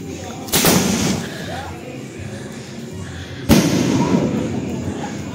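Two sharp, loud explosions from homemade bottle-cap fireworks, a few seconds apart, each with a hissing, crackling tail over busy outdoor background noise.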